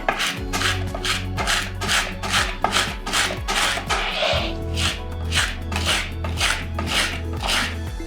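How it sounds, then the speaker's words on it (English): A flat knife blade mashes garlic cloves with salt on a cutting board, giving steady, rhythmic scraping and pressing strokes about twice per second, close and clear with no talking. "I'm using the flat part of the knife to crush the garlic and create a paste-like consistency"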